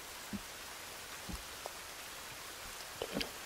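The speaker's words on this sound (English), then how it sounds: "it's still gonna be raining" Rain falling outdoors in a forest, a soft steady hiss with a few scattered, sharper drops landing nearby, faint and without voices.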